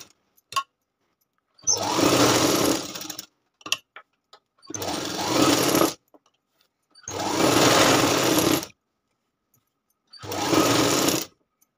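A sewing machine stitching the lining of a katori blouse runs in four separate bursts of a couple of seconds each, with short quiet pauses between them, close and clear, without talk.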